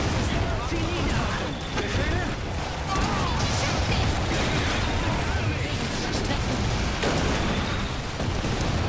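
Cannon fire and explosions in the real-time strategy video game Iron Harvest, dense and continuous bursts of battle noise throughout with voices shouting under the din.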